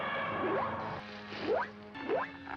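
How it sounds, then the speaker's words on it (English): Jiger's tail spike in a Showa-era Gamera kaiju film makes a silly sound: three rising, squishy, wobbling swoops, each louder than the last, over a busy film soundtrack. "Jiger has this little spike on her tail, which, might I add, makes a very silly noise"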